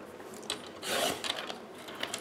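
Paper for a handmade birthday card is trimmed with a short scraping, rasping cut that swells for a moment and fades, close and fairly quiet with small clicks around it.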